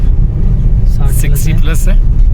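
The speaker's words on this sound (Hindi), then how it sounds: "अब ये 5वें गियर में जाएगी गाड़ी" A car cruising along a flat, empty valley road in Spiti, shifting up into fifth gear at over 60 km/h, gives a steady low engine rumble while someone talks over it throughout.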